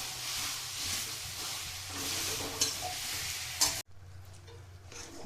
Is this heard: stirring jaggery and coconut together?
yes